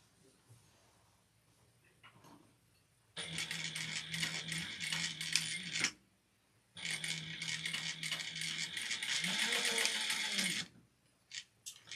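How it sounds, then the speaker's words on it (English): A sewing machine stitches along drawn lines on a fabric bowl cozy, running in two sustained, loud, rattling bursts separated by a short pause, close by with no talking. "we're going to go to over to our machine and we're going to sew on the lines that we drew."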